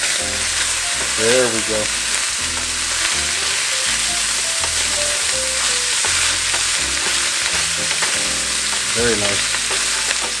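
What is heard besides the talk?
meat browning and sizzling in a pan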